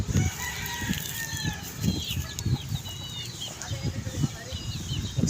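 Chickens in a small backyard coop cluck and crow together, with layered crowing calls and scattered clucks, wing flaps and low thumps, fairly close and continuous.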